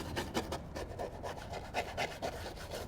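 A detailing brush scrubs plastic car trim coated with SiO2 trim restorer, making a steady, soft, close bristle rubbing with repeated back-and-forth strokes. No one talks.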